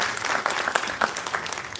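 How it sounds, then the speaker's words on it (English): An audience applauds at a university hooding ceremony, a short, dense burst of clapping from a crowded room. "Big applause for Cheryl."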